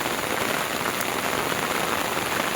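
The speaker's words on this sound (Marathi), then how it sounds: "आणि पाऊस तर चालूच आहे." Steady rain falls in a Konkan village, a continuous dense hiss of drops on surfaces, even and unbroken with no voices.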